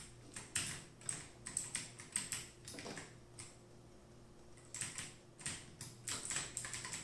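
Fast typing on an HP GK320 mechanical keyboard with blue switches gives bursts of crisp, clicky keystrokes, close and fairly quiet, with a short pause midway.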